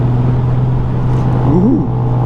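A Honda Goldwing 1800 DCT motorcycle accelerates on the road, a steady engine drone with a brief rising-and-falling pitch sweep near the end, heard close from the rider's position under constant wind noise.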